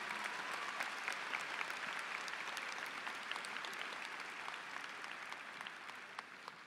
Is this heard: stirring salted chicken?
no